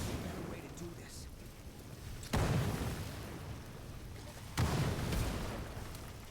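Two muffled booms land about two seconds apart as grenades hit a plague wall in the video game State of Decay 2, each a short low thump over a steady rumbling game background.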